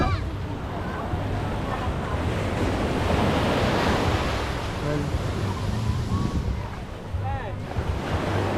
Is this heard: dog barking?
no